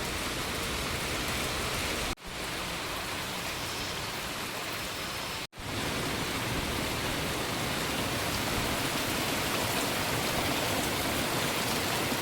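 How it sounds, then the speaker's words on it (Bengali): Heavy monsoon rain pours steadily outside an open gate, a dense, unbroken hiss that stays loud and close throughout, with two very brief dips in the noise. "দেখতে দেখতে বৃষ্টিটা আরও জোরে চলে এসছে।"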